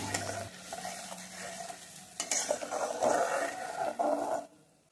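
Chilli-turmeric water poured into hot oil hisses and sizzles loudly while a spoon stirs and scrapes the pan, the frying noise swelling midway before cutting off at the end.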